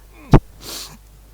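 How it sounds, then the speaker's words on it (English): A single sharp, explosive sneeze up close, followed by a softer breathy exhale. "there's a sneeze stuck in my nose"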